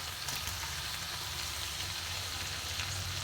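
Pre-fried pumpkin and potato go into a hot pan of cooking goat liver, a dense continuous sizzle and hiss close up with no voices.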